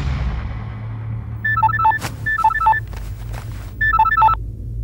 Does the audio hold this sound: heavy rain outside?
no